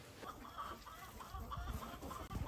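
Chickens cluck steadily in a small group at close range in a small building used as a breeding pen on a farm, with scattered soft clucks and rustling continuing throughout.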